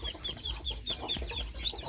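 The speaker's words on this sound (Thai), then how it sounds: "ทั้งเป็ดทั้งไก่อยู่นำกัน" Chickens cluck and chirp repeatedly and close by in an evening farm garden where ducks and hens are kept together, a steady run of short calls over low background noise.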